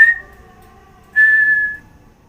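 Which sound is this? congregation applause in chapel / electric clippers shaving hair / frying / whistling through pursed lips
whistling through pursed lips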